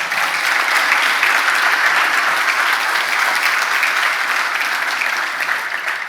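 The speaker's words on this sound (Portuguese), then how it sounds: "aplaude o Senhor." Steady applause from a large crowd, loud and sustained throughout with no breaks.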